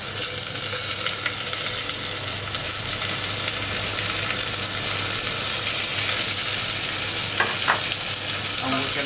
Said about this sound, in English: the oil is pretty much warm at this point, so we're going to put the onions first